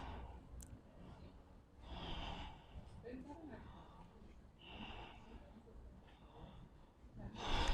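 Slow, deep breathing during an all-levels yoga flow, faint and close, with soft drawn-out inhales and exhales rising and falling over several seconds.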